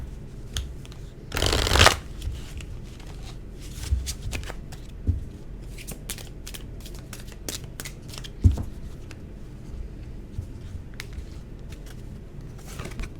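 An Isis oracle card deck is shuffled close up: one brisk riffle burst, then softer card slides and taps scattered through quiet.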